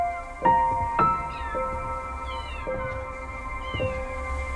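Several cats meowing in the Copycat video game, a series of short, distinct mews spaced irregularly over a soft steady background hum, fairly close and with no talk.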